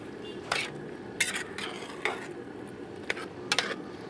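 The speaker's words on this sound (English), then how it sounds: "Stir those in." Lentils being stirred in a cooking pot, with several short scraping clinks of the spoon against the pot over a low steady background; close and fairly quiet, no talking.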